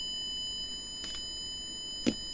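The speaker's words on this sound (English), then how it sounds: "And why is that buzzer going off?" A Siglent SDM3065X multimeter's continuity buzzer chirps in two brief beeps, about a second apart, against a steady electronic hum, close by with no talk.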